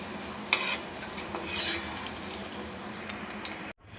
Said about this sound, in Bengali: একই রকমভাবে কাজু কিচমিচগুলো ভেজে নেব